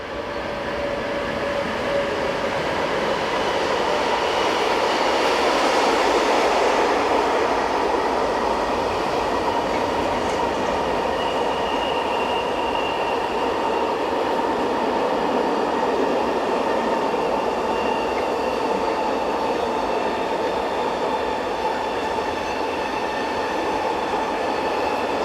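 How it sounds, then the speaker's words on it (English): Freight train hauled by Class 186 and 187 electric locomotives on the Gotthard north ramp in Switzerland, a loud continuous rumble of wagons rolling past with faint wheel squeals and no voices. "The Class 187 was used to pilot the train over the summit of the Gotthard route"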